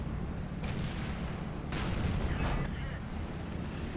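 A T29 heavy tank's main gun fires in World of Tanks, two heavy booming blasts about a second apart over a constant rumbling engine and battle drone, loud and close.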